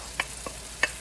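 Fresh diced carrots stirred in a hot pan for ham fried rice, giving three short scraping, sizzling bursts over a low steady fry.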